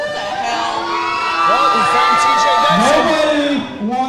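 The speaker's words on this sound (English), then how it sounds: "I see kids with their fathers and mothers, kids cheering for Yellow Dog, dads cheering for Redwing" A crowd of kids and dads cheers loudly and continuously, a dense wall of shouting, whooping children's voices and deeper adult yells that swells, then drops off near the end.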